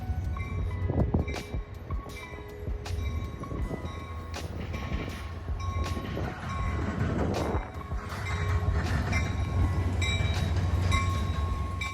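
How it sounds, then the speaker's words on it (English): A Metra commuter train pulls into Joliet station running a little late, with steady rumbling wheels, metallic clanks and ringing bell-like tones heard up close and continuous with no talking. "The Metro train was running just a little late that morning and got into the station"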